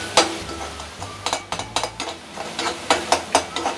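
Tomatoes seasoned with salt sizzle in a pan while a spoon stirs them, a steady frying hiss broken by sharp scraping strokes in an irregular rhythm, close and fairly quiet, with no talking.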